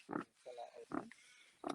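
A pig at an animal sanctuary gives a few short, low grunts in bursts, close by, with a person talking in between.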